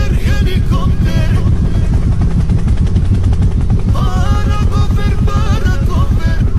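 An animated cartoon helicopter gives a loud, fast, continuous rotor chop, layered with tonal sound-effect and music elements throughout.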